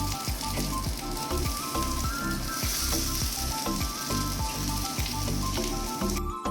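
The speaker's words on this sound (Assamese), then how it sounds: "ইয়াৰ পিছত কেৰাহীটো গৰম কৰি অকণমান তেল দিলোঁ আৰু আমি লৈ লোৱা পিঁয়াজ, নহৰু, আদা আৰু মছলাখিনি ইয়াত দি দিলোঁ" Chopped onion, garlic, ginger and spices sizzle loudly and steadily in hot oil in a kadai, with a dense continuous crackle and periodic low thumps of stirring.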